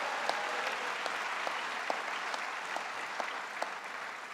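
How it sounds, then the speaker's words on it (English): A large audience at a state government event honoring the CUNY chairman claps steadily in a dense, even round of applause, with scattered sharper claps standing out. "Let's give him a big round of applause."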